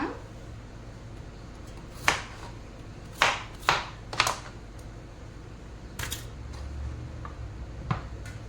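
Onions being chopped for a Kuwaiti-style tashreeb during Ramadan, heard as a few sharp, isolated knife knocks on a board, spaced irregularly and fairly close over quiet room noise, with no talking.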